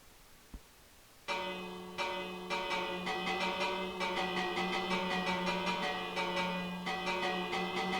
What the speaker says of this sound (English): Can I ring the bell and get them to come?